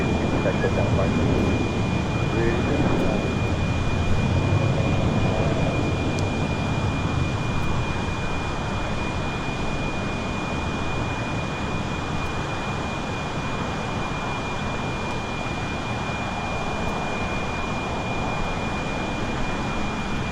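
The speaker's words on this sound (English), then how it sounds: "carbon fiber A350 with China Airlines now making its way over to the southeast quarter gates" Steady jet engine rumble of a China Airlines Airbus A350 taxiing toward airport gates, a continuous broadband roar with a faint high whine, moderately distant and fairly constant throughout.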